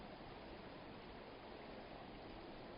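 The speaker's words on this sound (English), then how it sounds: "all I'm hearing right now is the creek that I've been walking next to." A creek flowing through a still, foggy winter forest, a faint, even rushing wash of water with no birds or other sounds.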